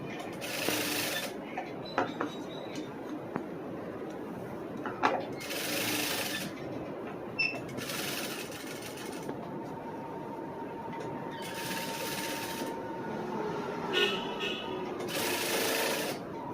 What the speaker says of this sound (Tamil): அதே போல் இதுலேயும் நம்ம ஒரு தையல் போட்டுக்கலாம்